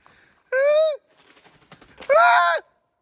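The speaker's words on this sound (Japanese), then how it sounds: "上の方なんか変な鳥いた。" Two drawn-out, slightly descending bird calls from a strange bird in the hills near an abandoned mountain village on the Osaka–Wakayama border, each about half a second long, loud and fairly near, with soft rustling between them.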